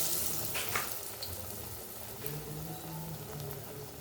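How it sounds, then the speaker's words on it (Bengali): Flattened pieces deep frying in oil over low heat give a steady, moderately quiet sizzle with soft bubbling crackles, with no voices over it. "এবং এটা ভাজতে হবে ডুবো তেলে,"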